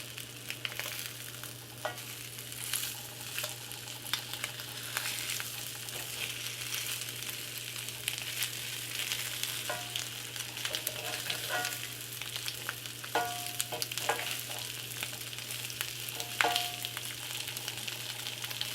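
Homemade crab cakes fry in a pan with a steady, soft sizzle and scattered small pops, heard quietly over a low constant hum and no voices.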